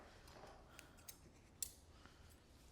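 Scissors lightly trim a Bichon puppy's coat during grooming, giving a few soft, quiet snips spaced irregularly over a faint background.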